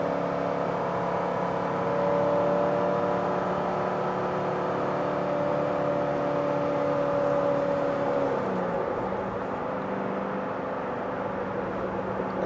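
A Corvette Grand Sport with a Corsa exhaust cruises with a steady, subdued engine drone and whirring road noise heard from inside, then the pitch drops as it shifts, without talk.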